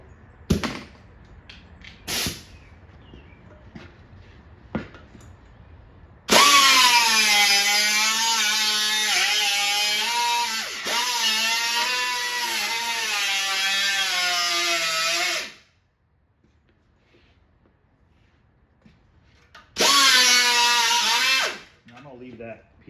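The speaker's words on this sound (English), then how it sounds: "I'm going to have to use my cutoff wheel for this cut." A cutoff wheel cuts into the front valance of a 1949 Studebaker, giving a loud, shrill, wavering grinding whine in one long pass and then a shorter burst, with quiet tapping and handling noises between.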